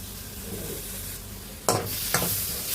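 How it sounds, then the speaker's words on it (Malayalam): Chopped tomato fries in a pan with coriander powder, giving a steady, close sizzle. Two sharper bursts mark pieces being stirred or dropped in, and no one speaks. "ഇതിലേക്ക് നമുക്ക് അരിഞ്ഞ് വെച്ച് തക്കാളി ഇട്ട് കൊടുക്കാം"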